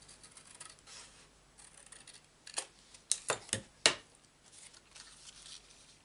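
Scissors snipping through Whisper White cardstock, several sharp crisp cuts in a quick cluster, close and clear over a quiet room, with no talking.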